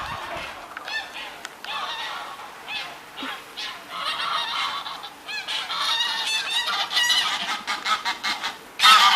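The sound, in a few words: geese honking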